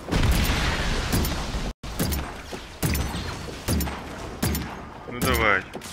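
Repeated loud booms and bursts of in-game explosions and gunfire in Just Cause 3, several blasts in a row with brief gaps between them.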